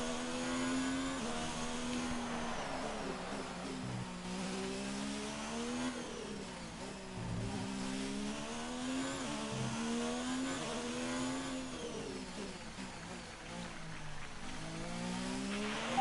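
Ferrari Formula 1 car in the F1 2019 game at the Singapore Grand Prix, a continuous high-pitched engine whine rising and falling through gear changes as it lifts and coasts through corners, steady and loud with no talk.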